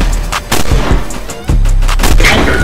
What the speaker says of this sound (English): I'ma finish him with the sniper